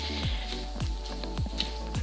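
Squelching steps of cello tape shoes walking through standing water, a soft wet squish roughly every half second in steady rhythm, faint and close under a background music bed.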